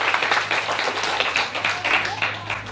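A church congregation applauds, fairly loud and sustained, a dense patter of many hands clapping together with a low steady hum underneath and no speech.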